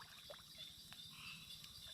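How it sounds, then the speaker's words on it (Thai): Faint frog croaking at night in a forest, a low, rapidly pulsing croak that repeats continuously at a distance beneath a quiet, high insect-like background hiss. "กบตัวใหญ่นึงเลย"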